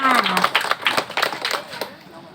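Villagers clap in welcome for Uncle Phon and Aunt Taen, a dense patter of many hands under a voice talking over the sound, with the clapping tailing off toward the end.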